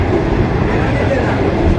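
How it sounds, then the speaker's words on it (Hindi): The Shalimar Express passenger train in Pakistan rolls past a station, heard from on board as a continuous heavy rumble of wheels and carriage noise, loud and close throughout. "इस वक्त हमारी ट्रेन कोई असल रेलवे स्टेशन से इसको स्किप कर रही है"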